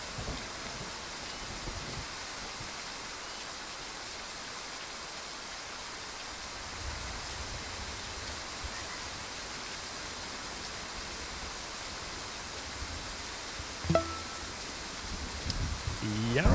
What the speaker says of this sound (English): Just the noise of the rain alone is pretty loud.